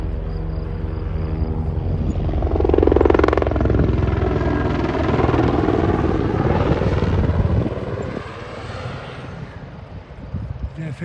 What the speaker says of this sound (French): L'hélicoptère s'est posé au niveau du col.